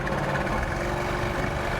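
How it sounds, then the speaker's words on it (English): Low, steady rumble of a 1964 Buick Skylark engine idling through its exhaust, constant and close with no voices. "Listen to that exhaust."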